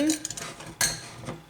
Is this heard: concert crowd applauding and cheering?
no